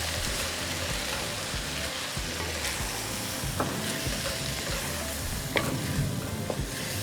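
Salsa is stirred into ground beef frying in a pan. A thick, close sizzle runs throughout, with scattered scrapes and soft taps from the spoon and no talking.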